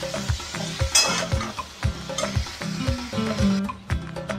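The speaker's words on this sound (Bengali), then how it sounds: "এই সবজিগুলোকে পেঁয়াজ দিয়ে একসঙ্গে খুব ভালো করে ভেজে নেব।" Vegetables frying with onions in a pan for pui shak, a close sizzle broken by rhythmic scraping and clattering strokes of a stirring utensil against the pan.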